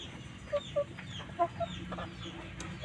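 A village hen gives a few short, soft clucks scattered over a quiet background of faint rustling and distant birds.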